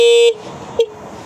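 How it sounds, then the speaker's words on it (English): Abnormality alarm on a Segway GT3 Pro electric scooter, a loud harsh horn honk cut off sharply, followed by a second very short beep. "It should start honking at us."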